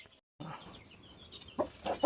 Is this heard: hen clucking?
yes